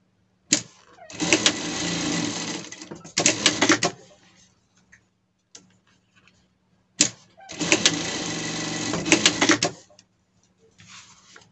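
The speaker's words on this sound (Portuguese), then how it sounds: "Aqui a gente vai passar uma costura." A sewing machine stitches a leather strap in two long runs of fast, steady mechanical clatter. A sharp click starts each run, with quiet pauses between them.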